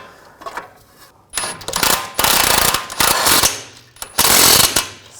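Quick bursts of ratchet clicking alternate with short pauses as a nut is tightened onto a tie rod end stud on a BMW 328i, crisp and close, several runs of rapid pawl ticks.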